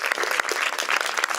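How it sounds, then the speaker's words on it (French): Audience applause at a film premiere screening, a dense, steady burst of clapping from a seated crowd that fills the whole short moment without any speech. "Je vous demande d'applaudir une fois de plus Léa Drucker et Riton Lidman"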